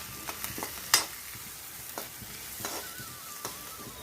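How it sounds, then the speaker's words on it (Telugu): Cut pieces frying lightly in oil in a home kitchen pan, a steady soft sizzle broken by a few stirring clinks and taps, close and alone with no voices. "లైట్గా అలా వేగితే చాలు"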